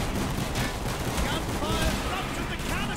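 Dense, continuous automatic gunfire from Call of Duty: Black Ops, loud and sustained with overlapping shots throughout, mixed with game effects.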